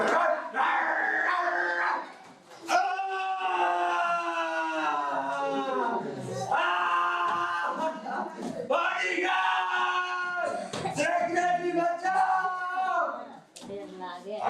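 A voice imitates a dog attacking, with growls and barking yelps, loud and close, in a comic chase scene where a dog bites a chief minister. Other voices shout around it.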